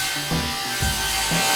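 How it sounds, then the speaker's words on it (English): Short rasping strokes of a saw cutting through fresh sawmill timber for frames in a barn recording studio, a few rhythmic scrapes heard up close. "sawing up a load of wood that I just got from the sawmill"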